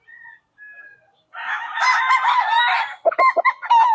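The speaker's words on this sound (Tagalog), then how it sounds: "Ito pa mga boss, isang Boston na cross sa John Bishop Kelso." A gamefowl rooster, a Boston cross on John Bishop Kelso bloodline, crows loudly and close at a Bulacan game farm, one long crow followed by shorter clucking calls, with faint chirps before it and no talking.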